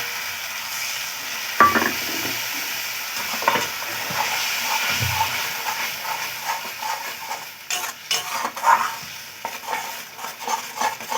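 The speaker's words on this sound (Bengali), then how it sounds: "ভালো করে কষিয়ে নিচ্ছি।" Spice paste with added water being stir-fried for a pointed gourd curry, close bubbling sizzle with repeated scraping stirs and clinks of a spatula against the pan, no talking.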